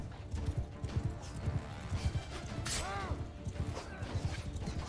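Rapid, overlapping hoofbeats of many horses from horse archer cavalry in Mount & Blade II: Bannerlord, a continuous rumbling clip-clop with a brief whinny and clashing sounds in the mix, fairly close and steady.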